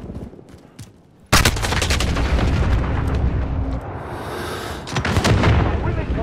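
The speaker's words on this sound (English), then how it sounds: "Enemy precision airstrike inbound." Loud precision airstrike explosions in Call of Duty: Modern Warfare erupt suddenly after a quiet moment, then roll on as a dense, continuous barrage of booms and blasts with a second surge near the end.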